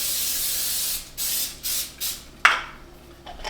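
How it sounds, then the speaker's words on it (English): Several short hissing bursts of a canola oil aerosol cooking spray, a long spray followed by quick pumps and a sharp final spritz, close and alone. "I have my 0-calorie canola oil spray."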